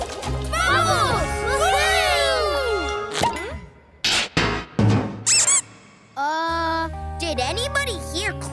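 Cartoon squeak effects in a children's animated rescue show, bright sliding chirps and squeals mixed with clanks and dings, heard in bursts between lively music and a voice.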